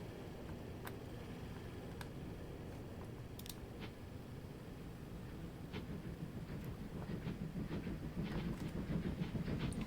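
Train running on rails in the Transport Fever 2 video game, a steady rumbling roll with faint clicking and ticking over the track, growing slightly louder toward the end, with no talking.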